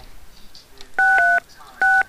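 A phone being dialed in the Trespasser video game: two short bursts of DTMF keypad tones, clear and close, separated by a brief pause over quiet game ambience.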